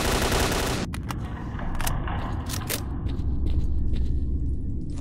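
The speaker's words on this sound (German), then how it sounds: "Hinten wird jetzt schon geschossen" Gunfire in the video game S.T.A.L.K.E.R.: Clear Sky: a sustained, dense burst of shooting fills the opening second, followed by scattered sharp shots over a steady loud background rumble.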